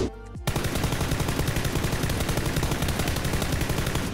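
An M4 rifle fitted with a grip fires a long, rapid full-auto burst in PUBG's training grounds, loud and close, with evenly spaced sharp reports after a brief lead-in.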